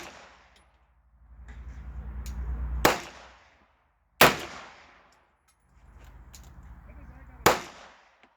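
Three sharp, loud reports from a Thompson Center Contender pistol chambered in .44 Magnum, evenly spaced, each a sudden blast with a ringing tail, broken up by stretches of rising rumbling handling noise at an outdoor range.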